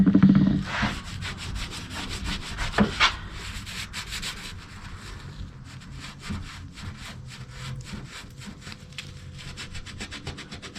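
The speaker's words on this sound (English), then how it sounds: "let's go ahead and clean this area off here with some WD-40." Scrubbing and wiping around the tailgate hinge area of a 2001 Chevy 2500HD Silverado pickup with WD-40, a close, continuous rough rubbing with short repeated strokes and a few sharper scrapes.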